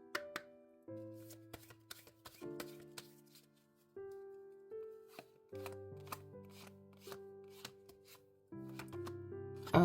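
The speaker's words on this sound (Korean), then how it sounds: "오라클 카드 한 장 볼게요." Oracle cards are shuffled and one is drawn. Soft, quick papery clicks and taps sit beneath a gentle melodic music bed, with a burst of card handling near the end.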